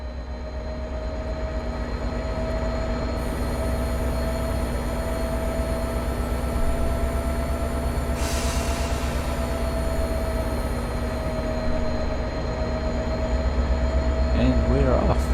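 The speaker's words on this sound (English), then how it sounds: "Now try operating the train to the next station without instruction." A train in the Train Sim World game hums along with a steady drone of motor whine and rolling noise, with tonal sounds holding throughout and a brief hiss burst partway through.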